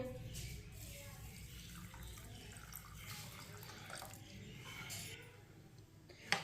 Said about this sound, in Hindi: पानी डाल लेंगे। ये मैंने आधा गिलास पानी लिया।